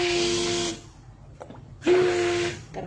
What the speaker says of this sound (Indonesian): Kita aduk pakai hand blender ya teman-teman.